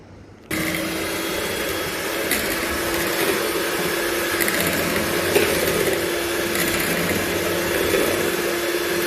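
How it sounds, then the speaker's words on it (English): An electric mixer beats donut batter at steady speed, a continuous close whirring drone that starts abruptly and holds level throughout. "And now we mix."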